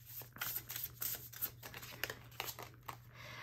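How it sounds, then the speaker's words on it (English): Tarot cards being shuffled by hand, a quiet run of soft papery riffles and flutters in uneven bursts, close and faint, with no talking over them. "I'm never usually silent when I'm shuffling"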